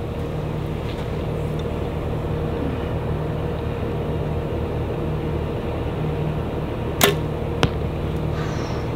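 An arrow is released from a bow in a backyard range and strikes a target with a sharp crack, followed by a second quick knock, over a steady rumble of background machinery from nearby landscaping work.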